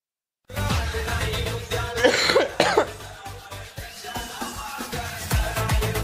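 A man coughs several times in a harsh, clustered fit, close and loud against faint background noise, with no speech.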